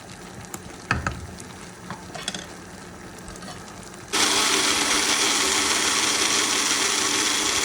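A spoon scraping and stirring a blended dried-fish (shutki) mixture in a pan for a Sylheti pumpkin dish, sporadic clinks and knocks at first, then a steady loud sizzle of frying that fills the rest.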